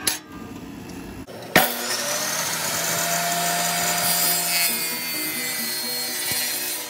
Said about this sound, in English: I'll go ahead and cut this board.